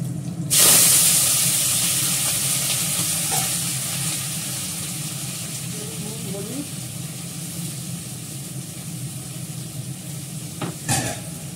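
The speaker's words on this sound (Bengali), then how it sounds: "পেঁয়াজ কলি ভাজাটা আমি একটু কালো জিরে ফোড়ন দেবো।" Onion greens sizzle in hot oil with a nigella seed tempering, a sharp burst as they hit the pan settling into a steady hiss, with occasional spoon scrapes as they are stirred.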